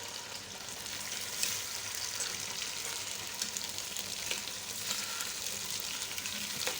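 Taro root (arvi) being fried in hot oil for masala arvi gives a steady, close crackling sizzle with small pops, running unbroken and with no voices.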